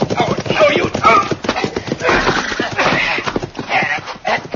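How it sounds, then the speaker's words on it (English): Old-time Western radio drama effect: horse hooves clip-clopping with a whinny, heard under overlapping shouted dialogue from several actors during a scuffle. "Pull him off that horse, Pete."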